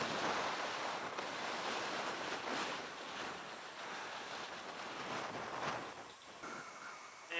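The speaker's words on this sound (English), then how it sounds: "Oh my gosh, it's so breezy right here." Steady, loud wind rushes over the microphone during a motorcycle ride in Japan, a continuous broadband roar that barely varies for the whole stretch, with no talking.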